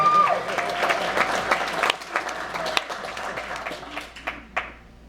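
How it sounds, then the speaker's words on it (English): Wedding guests applaud during a best man's speech; the clapping is strongest early on and fades to scattered claps by the end, with some voices and cheers mixed in. "You can applaud."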